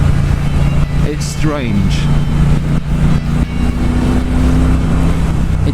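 A 2018 Triumph Bobber Black motorcycle on the move, its engine a loud, steady low rumble with wind noise throughout while a rider talks over it.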